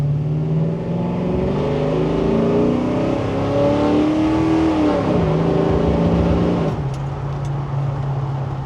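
A 1977 Chevrolet C10 Silverado restomod truck with a cammed LS engine accelerates hard from close by, its engine note climbing steadily through gear changes before settling into a lower steady drone.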